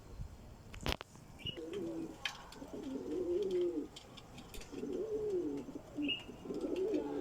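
Khargosh-aankh (rabbit-eye) pigeons coo repeatedly in soft, throaty, rolling phrases, close by, with a brief flutter or clap near the start.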